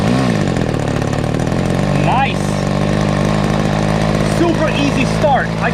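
A warmed-up M46 nitro engine on a 61-inch Megatech Nitro Airstrike model airplane runs steadily at high revs with a buzzing drone, while a voice briefly speaks over it.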